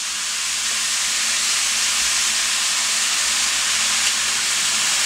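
Vegetables and bowtie pasta stir-fried in a hot pan give off a steady, loud, unbroken sizzling hiss that stays even throughout.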